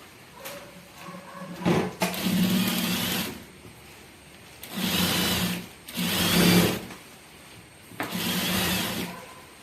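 A sewing machine topstitches a uniform coat in four loud, close bursts of rapid whirring and clattering, separated by short pauses.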